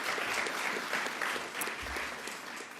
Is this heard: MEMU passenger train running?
no